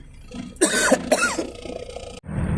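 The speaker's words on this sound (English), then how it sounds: "guys, I'm coughing here" A few harsh, close coughs and throat-clearing rasps in quick succession, fairly loud, followed by a brief rustle.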